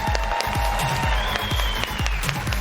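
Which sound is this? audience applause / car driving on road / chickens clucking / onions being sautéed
audience applause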